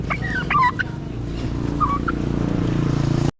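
Honking calls from geese beside a road where rice is spread out to dry, heard as a few short nasal calls over the steady low drone of a motorbike engine.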